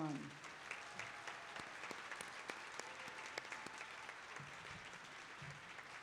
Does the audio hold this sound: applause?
yes